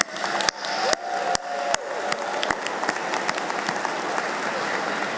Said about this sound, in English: Let's give Dr. Taylor another round of applause.